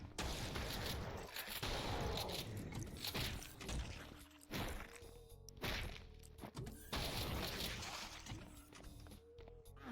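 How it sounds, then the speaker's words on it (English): Gunfire and shattering lamps in Doom II, loud bursts of shots mixed with glassy smashes and crashes, dense and continuous with brief gaps. "I just want to shoot lamps out just to say that I could shoot lamps out"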